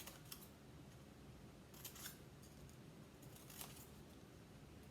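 Scissors cutting paper to shape a paper shark's teeth, soft repeated snips in small clusters, close but quiet over a low steady room hum.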